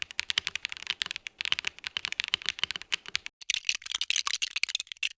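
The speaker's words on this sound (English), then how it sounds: "This keyboard sounds super similar to the Lego building sound" A Kit Adem 60% hot-swappable gasket-mount keyboard in a case built entirely from LEGO bricks is typed on in fast, continuous clacking keystrokes, close and crisp, with a brief pause partway through.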